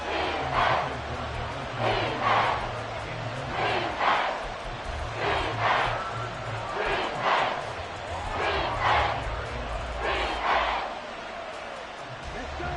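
Stadium crowd noise from the football video game Madden 24, a steady roar with rhythmic surges of chanting and yelling rising every second or so, heard alongside commentary voices.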